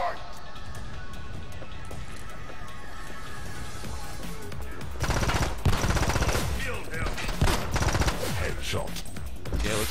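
Rapid Uzi bursts crackle in a video game, dense automatic fire starting about halfway through in loud repeated volleys over a busy soundtrack.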